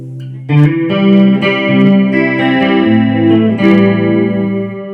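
A clean, bright electric guitar through a Fender CyberTwin amp plays ringing chords, sustained and chimey with a shimmering edge, loud and close with no voices.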